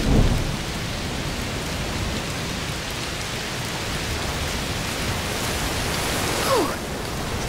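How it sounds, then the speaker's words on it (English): Steady heavy rain hisses throughout a thunderstorm in A Plague Tale Requiem, with a low rumble of thunder early on and a brief sharper crackle near the end, no voices over it. "Must be a heat storm."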